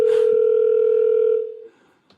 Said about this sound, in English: Alexa, call Sweetie Petey.